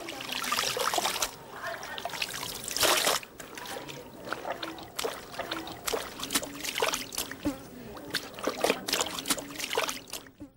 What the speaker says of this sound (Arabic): يقوم بوضع مجموعة من الجلود داخل الإناء المملوء بمنقوع التمر، وبعد تقليبها جيدا